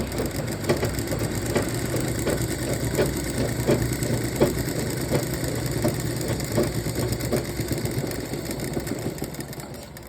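A sewing machine stitches blouse fabric with a fast, steady mechanical chatter of regular needle strokes that runs continuously and close by, with no voices.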